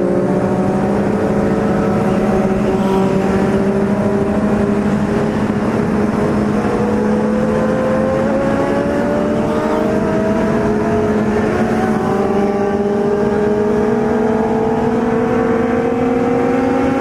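A Kawasaki Z750 motorcycle accelerating hard on a highway, its loud engine note climbing steadily through gears, with a second Z750 nearby and constant wind roar throughout.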